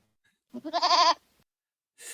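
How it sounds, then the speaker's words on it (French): A goat bleat sound effect: one loud, quavering bleat rising and wobbling for under a second, heard alone, followed by a brief hiss of noise. "est-ce qu'on a le droit de mettre le petit bruit de chèvre?"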